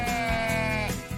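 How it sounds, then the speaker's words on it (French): A sheep grazing among the standing stones of Carnac in Brittany gives a single clear, wavering bleat, close and loud. "À Carnac, les moutons gardent les menhirs."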